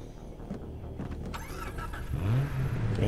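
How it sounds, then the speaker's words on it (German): A car engine revving while driving in the video game Far Cry Blood Dragon, an electronic-tinged motor climbing in pitch and growing louder toward the end, with no talk over it. "Ich habe ein Brumm-Brumm-Auto."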